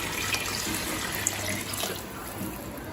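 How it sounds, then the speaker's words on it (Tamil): Water pouring steadily into a pot of chicken and rice being cooked, a continuous close splashing rush with no talk over it. "இப்போ அடுத்தது நம்ம தண்ணி சேர்த்துக்கலாங்க."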